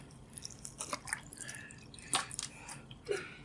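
Water soaks into a coco fiber and peat moss substrate, giving faint close-up drips, squishy crackles and soft trickles in an irregular pattern over low background hiss.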